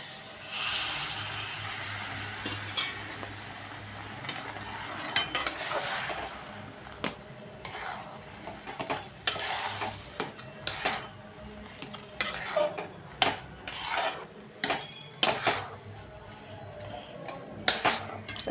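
A spoon scrapes and clatters steadily against a pan as semolina is stirred and its lumps broken up in a home kitchen, with irregular metallic knocks over a faint background hiss.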